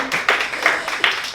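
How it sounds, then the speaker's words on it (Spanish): A church congregation claps and applauds during a sermon, a modest burst of hands with a few sharper individual claps standing out, moderately near and fading unevenly. "Denle un aplauso a las mujeres,"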